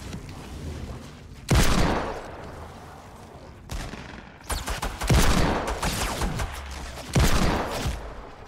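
Gunfire in the battle royale game Fortnite: several loud, punchy bursts of shots and a heavy boom, spaced a few seconds apart, with rapid crackling volleys between quieter stretches of ambient game sound.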